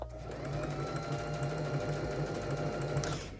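Domestic sewing machine running steadily with twin needles on a straight stitch, hemming the top of a refashioned dress; a continuous close mechanical hum and rapid needle rhythm carries on unbroken, with no talking.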